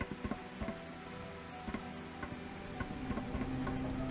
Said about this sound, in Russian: О, стемнело, дождик.